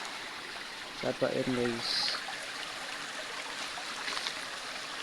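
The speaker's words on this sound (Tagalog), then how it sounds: "At dito naman is sapa" Water flowing in a small creek, a faint steady trickling murmur heard throughout, with a man's brief speech and a short bird-like chirp over it.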